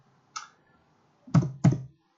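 Typing on a computer keyboard, three close, quiet key clicks: one light tap, then two firmer thumping keystrokes in quick succession.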